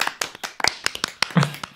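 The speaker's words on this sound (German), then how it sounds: "Applaus für Kari" A small group clapping for a contestant after a quiz answer on German geography, heard as a short burst of sparse, separate hand claps, fairly close, with some voices mixed in.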